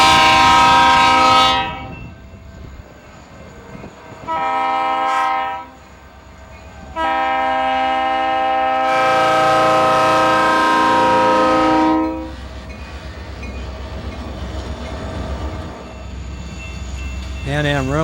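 A 1968 EMD GP40 diesel locomotive, number 335 with 3,000 horsepower, hauls a Pan Am Railways train and sounds its chorded horn in several long and short blasts, loud and nearby, over a rumbling engine and rolling wheels.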